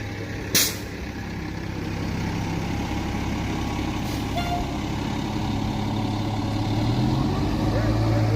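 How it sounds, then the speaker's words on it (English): A fire engine draws up at a residential police standoff scene, its heavy diesel idling and rumbling steadily, with a sharp air-brake hiss near the start and another fainter release later, under distant voices. "I don't know if this is a whole new fire engine pulling up"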